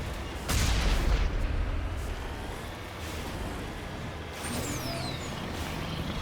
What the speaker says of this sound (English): Let's go ahead and just blast them with a mass accelerator cannon.